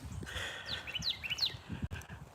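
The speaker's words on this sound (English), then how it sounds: "And you can hear the birds." Small birds chirp and tweet in short bright bursts outdoors during a walk down a rural street, heard over soft footsteps and light background noise.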